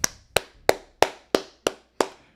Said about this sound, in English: I will clap it up for him a little bit.